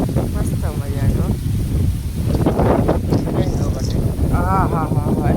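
Strong outdoor wind buffets the microphone in continuous rough gusts during a trip out of town, with voices talking through much of it.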